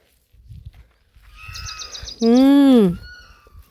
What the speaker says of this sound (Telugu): అప్పటి నుంచి సౌండ్ చేస్తా ఉన్నాయి కుయ్యం కుయ్యం కుయ్యం కుయ్యం పక్షుల సౌండ్స్ ఎంత బాగుంటుందో కదా